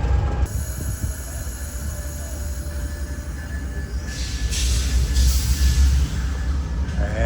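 Amtrak Crescent passenger train, northbound number 20, pulling out of the station at Greensboro, North Carolina: a steady loud rumble of rolling cars with faint wheel squeal, continuous throughout.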